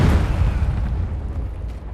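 A thrown object bursts in Robocop Rogue City, a loud, close explosive boom with heavy low rumble that decays over about two seconds without speech.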